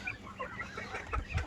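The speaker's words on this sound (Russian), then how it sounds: "юрловская курочка, очень красивая" Yurlov breed hens and young roosters in a coop clucking, a busy overlapping mix of soft clucks and murmurs at moderate distance, steady throughout, with no talking.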